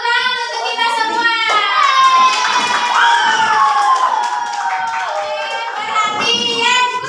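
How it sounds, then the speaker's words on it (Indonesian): A classroom of children cheers and shouts in a loud, continuous burst, with some clapping mixed into the excited voices. "Tepuk tangan untuk kita semua."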